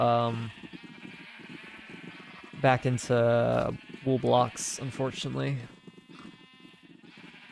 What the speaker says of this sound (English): Oh, there's some wild sheep over here.